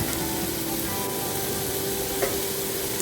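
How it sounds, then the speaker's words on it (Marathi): Cluster beans (gavar) being sautéed in a pan, a steady even sizzle and hiss throughout with a faint tonal hum underneath and one small clink near the end. "इथे भाजी छान परतून घेतली"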